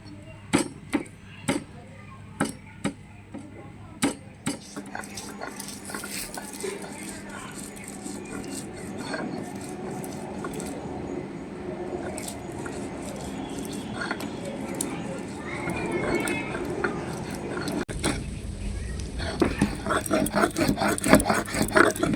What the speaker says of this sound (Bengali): দুটো রসুনের কোয়া, 4টে কাঁচা লঙ্কা, এগুলো এখন বেটে নেব। একসঙ্গেই বেটে নিচ্ছি।